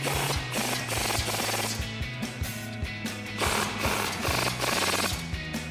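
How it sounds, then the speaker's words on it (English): A 21mm socket on a ratchet tightens the brake bolts of a Jeep Wrangler JL during a PowerStop Z36 brake rotor and pad install. Close, steady ratcheting clicks repeat in rapid rhythmic runs, loud and with no talk. "take your 21mm socket and tighten them down"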